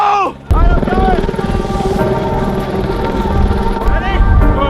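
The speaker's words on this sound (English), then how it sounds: "My boy Cade is up in this chopper." A helicopter flies close overhead with a loud, continuous rotor and engine drone that starts abruptly after a short pause, while voices and music sit underneath.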